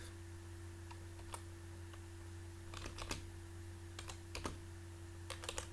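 Quiet keystrokes on a computer keyboard as a session name is typed, coming in short irregular bursts of clicks over a steady low electrical hum.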